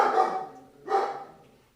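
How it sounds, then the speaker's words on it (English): A dog lets out two distinct barks about a second apart, fairly close and clear, each fading quickly into quiet. "Jesus, this dog."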